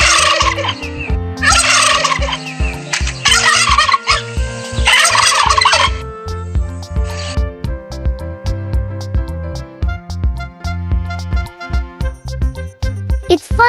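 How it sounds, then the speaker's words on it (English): Turkeys gobble in a series of loud, throaty bursts over a steady backing tune, the calls crowding the first six seconds before giving way to the music alone. "Turkeys are large birds."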